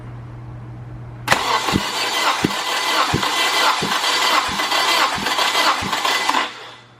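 A car engine cranks over with a run of evenly spaced starter pulses, then catches and roars loudly, racing unevenly as it is held near, before cutting off at the end.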